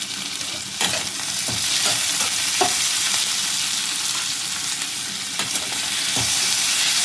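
Shrimp fry sizzles steadily in a pan while a spoon stirs and scrapes with scattered clicks, close and continuous with no voices.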